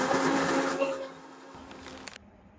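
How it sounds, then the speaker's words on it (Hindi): A mixer grinder whirs loudly as it grinds cooled spices into a fine paste in its jar, then the motor winds down and stops near the end. "चलिए मिक्सी जार में पीस लेंगे।"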